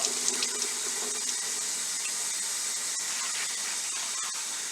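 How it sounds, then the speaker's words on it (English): Hot tap water runs into and rinses a water bottle at a sink, a constant hissing splash with occasional squeaky knocks near the start, close and steady throughout. "right now I'm just going to rinse it out"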